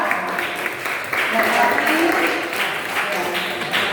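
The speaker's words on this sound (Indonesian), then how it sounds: "tepuk tangan untuk kelompok visual" Classroom applause for a visual learning group, dense broadband clapping from a room of people throughout, with voices and chatter mixed in.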